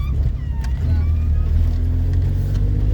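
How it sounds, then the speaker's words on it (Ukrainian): A car drives along an asphalt road, heard from inside as a loud, steady low engine and road rumble with a faint higher whine, and a voice talks over it. "так і по асфальтованій дорозі ми їдемо"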